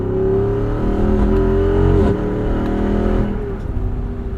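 A Jeep Wrangler 392 with its 6.4 liter V8 engine, driving with a loud, steady, close engine drone that rises and shifts through gears, heard alone without talk.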